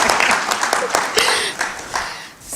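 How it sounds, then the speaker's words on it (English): An audience at a civil society briefing claps for itself, a lively burst of many hands with distinct sharp claps that thins and fades toward the end, with some voices mixed in. "come on, clap for yourselves"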